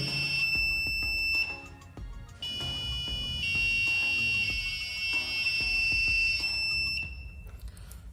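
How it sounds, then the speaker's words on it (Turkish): A high-pitched piezo buzzer driven by an Arduino PWM pin sounds close by, its loudness stepping up and down at roughly one-second intervals, with faint clicks underneath. "Bakın her saniyede Buzzer'ın şiddeti değişiyor."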